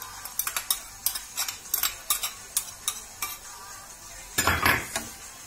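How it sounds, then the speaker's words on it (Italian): A spoon stirs tomato sauce with onions, olives and capers in a pan, giving a run of close scraping, clinking strokes over a soft sizzle, with a louder burst of stirring near the end. "Amalgamiamo tutto"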